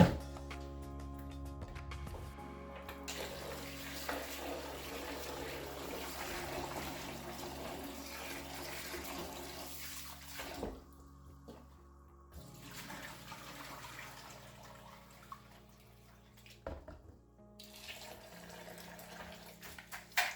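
Soaked African breadfruit (ukwa) seeds being washed in water, a running, sloshing wash with splashes and a couple of brief pauses, steady and moderately close, with no voices.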